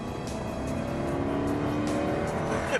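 A Jaguar XKR-S engine revs hard under acceleration, a loud, steady, rising roar held close throughout with a sharp flare right at the end.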